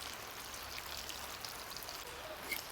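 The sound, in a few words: rain falling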